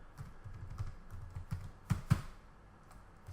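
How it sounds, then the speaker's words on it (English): Keys clacking on a computer keyboard as a domain name is typed, a quick uneven run of light taps with two sharper strikes near the end, close and alone. "Now we will type the domain name here."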